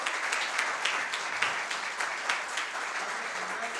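Steady applause from an audience, a dense wash of many hands clapping continuously, fairly close and even in loudness.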